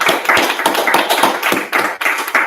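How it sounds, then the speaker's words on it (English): An audience claps loudly and close by, a brisk run of sharp hand claps with uneven rhythm lasting a couple of seconds, with no talking over it. "Let's clap it up."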